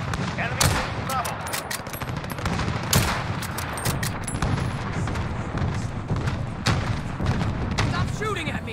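Rapid video game gunfire, with sharp bursts and single cracks scattered throughout amid a busy mix of booms and effects, while a voice talks over it.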